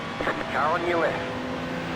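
An iRacing race car sweeps past another car on track, a rising and falling engine whine over steady engine drone, with a voice talking over it.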